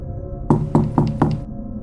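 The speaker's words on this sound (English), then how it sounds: "he heard a knock at his door. 3 slow knocks." Four firm knocks on a door, evenly spaced and fairly quick, close and clear against a quiet room.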